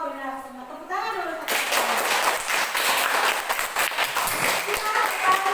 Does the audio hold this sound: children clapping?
yes